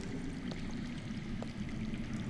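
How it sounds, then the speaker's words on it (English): Underground water rushing in the Telltale Game of Thrones video game, a steady broadband stream-like wash, fairly close and continuous with no talking over it. "That's water. I hear water. From underground."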